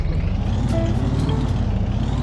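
A modded mini bike engine in Minecraft drones loudly and continuously, a steady low motor rumble with a faint higher whine running throughout.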